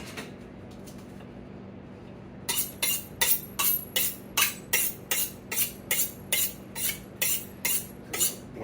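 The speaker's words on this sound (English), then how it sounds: "We're just going to go cutting up the pork." A sharp knife cuts up pork on a board, starting after a quiet moment with about fourteen crisp, evenly spaced slicing strokes in a steady rhythm, close and clear.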